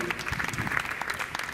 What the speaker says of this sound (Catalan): Gràcies pel vostre aplaudiment, que ens reconforten molt.